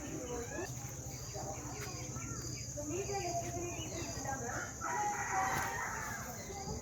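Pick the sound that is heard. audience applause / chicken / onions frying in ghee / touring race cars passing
chicken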